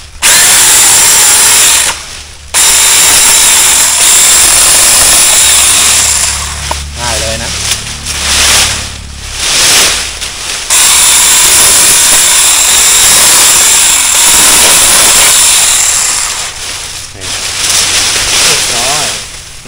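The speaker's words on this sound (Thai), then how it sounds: "การรีวิวทดลองตัดไม้ครั้งแรกกับเลื่อยไฟฟ้าไร้สาย" A loud, high-pitched whine of a cordless electric saw cutting through wood in long bursts, with short pauses where the motor stops between cuts.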